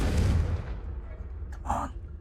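A Confringo blasting spell explodes in Hogwarts Legacy: a loud, broad boom at the start that rumbles and fades over a second, followed by a brief sparkling burst of magic a moment later.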